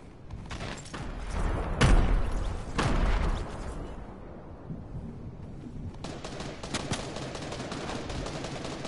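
Gunfire in Fortnite, with bursts of rapid shots and a couple of heavier cracks, fairly loud, then a brief lull before another volley of rattling shots.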